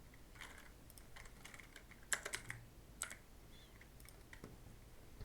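Someone types on a computer keyboard with a quick, irregular run of light, close key clicks and a couple of sharper taps, heard alone against a quiet room.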